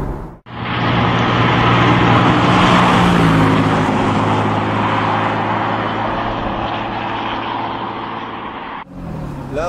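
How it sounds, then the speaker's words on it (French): A Porsche 997.2 fitted with a valved exhaust silencer system, driven through a small village. A loud, close, steady exhaust drone with a deep rumble runs almost the whole clip, echoing off nearby houses. "les maisons permettent vraiment de bien entendre l'échappement"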